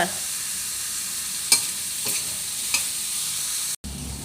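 Eggplant and minced pork are stir-fried in a pan, a steady close sizzle with a few sharp scrapes of the spatula roughly every half second to second, then a brief cut near the end.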